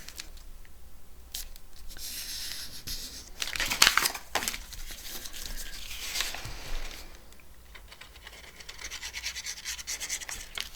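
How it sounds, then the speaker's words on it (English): A sheet of craft paper is folded over for a handmade flip journal, giving soft crinkling and creasing rustles with a sharper crackle near the middle, close and fairly quiet, with no voice. "Going to fold it over"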